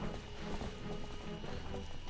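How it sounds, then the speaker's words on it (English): Horse hooves clip-clop steadily on the ground in Zelda: Twilight Princess HD, a quick running rhythm at moderate level beneath continuous game music. "you have to call the horse, get on the horse, and whatnot"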